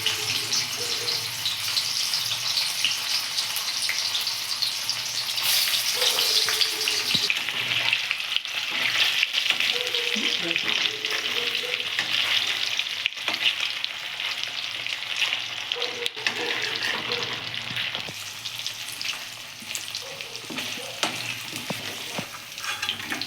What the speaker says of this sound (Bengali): এবার তেলের মধ্যে আমি এক এক করে পনির ভাজবো।